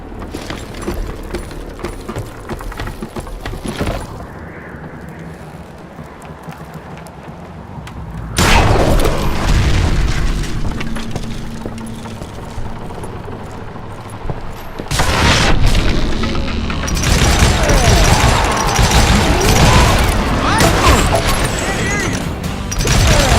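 Dynamite charges blow up in the Western shooter game Call of Juarez: Gunslinger, as heavy booming blasts and crashing debris that come in loud bursts with sustained rumble between them, while a voice talks over parts of it.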